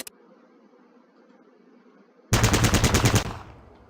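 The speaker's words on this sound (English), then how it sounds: "Target the dummy, and left-click to fire at it." A burst of rapid automatic gunfire at a training dummy in the game Fallout Tactics, loud and close for about a second after a near-silent lull, ending with a short fading tail.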